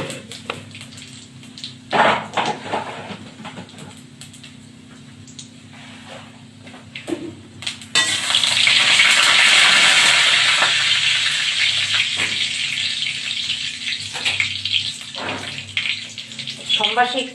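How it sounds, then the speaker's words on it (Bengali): Dried red chillies and panch phoron dropped into hot oil, a few brief crackles early on, then a strong steady sizzle that swells and gradually eases, with faint voice and kitchen clatter underneath. "এই দুটো শুকনো লঙ্কা দিয়ে দিলাম, 3টে দিয়ে দিলাম, একটু 5 ফোড়ন দিয়ে দিলাম।"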